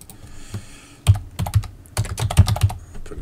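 Typing on a computer keyboard, entering a street address into a web-based alert system: rapid clusters of close, crisp key clicks with short pauses between bursts, no talking.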